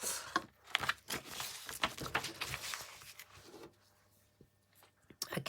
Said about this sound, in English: hack away with these scissors apparently.